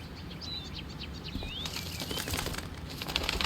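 Bird wings flap in the video game Life is Strange: Before the Storm, a fluttering burst over outdoor ambience with faint chirps. The flapping grows a little denser toward the end.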